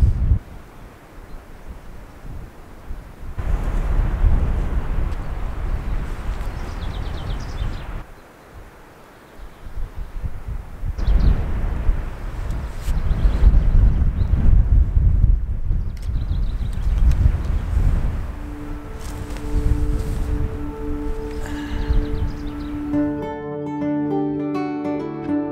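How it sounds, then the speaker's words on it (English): Gusty wind buffets the microphone in long rumbling surges that rise and fall, with a brief lull midway and faint tones near the end. "It's a little windy today"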